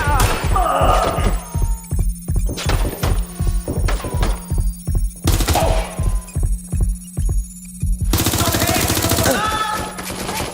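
Repeated volleys of automatic gunfire in the video game Watch Dogs: Legion on PS4 pound out in rhythmic bursts with short pauses, punctuated by louder blasts, loud and close throughout.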